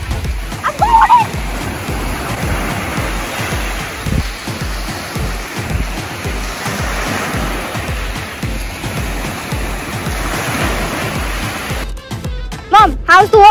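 Someone wades into cold fresh water at a beach in Gros Morne, with steady close splashing and sloshing throughout and a few voices briefly audible.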